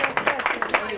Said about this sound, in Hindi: एक बार जोरदार तालियां हो प्रणय के लिए।